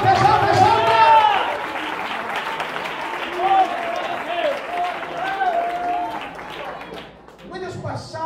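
Congregation clapping in a church during a youth gathering, sustained applause mixed with voices and singing-like tones throughout, loud and close, fading slightly toward the end.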